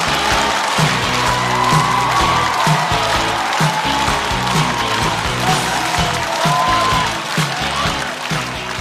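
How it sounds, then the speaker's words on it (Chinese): A loud, sustained wall of audience applause with cheering and whoops fills a stand-up comedy show as comedian Guangzhi is welcomed to the stage, steady and continuous throughout. "掌声欢迎广智。"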